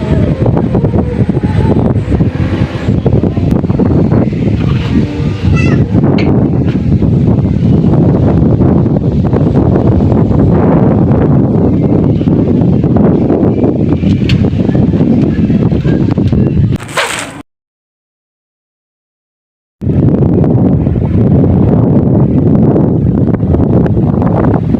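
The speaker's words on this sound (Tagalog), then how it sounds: "Mahangin pa." Strong gusting wind in the aftermath of Typhoon Karding roars and buffets a nearby microphone continuously for most of the stretch, broken by a few seconds of silence before the roar resumes, with no speech.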